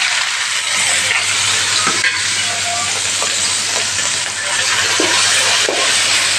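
Ground onion paste frying in a pan for a chicken leg dish, a steady loud sizzle and hiss running throughout with faint stirring scrapes.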